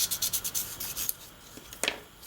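Fine-grit sanding along the wing edge of a 1:72 Academy Sopwith Camel plastic model: a quick run of about eight soft, rhythmic rubbing strokes, close and quiet, then a few lighter scrapes with pauses.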